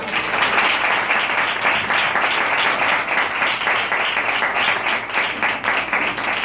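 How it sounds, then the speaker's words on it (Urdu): A congregation at a Wednesday prayer service clapping loudly, a dense, sustained roar of many hands that stays strong and even from start to finish. "زور سے تالی ہو جائے."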